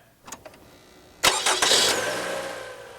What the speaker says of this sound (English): turn on the ignition of your car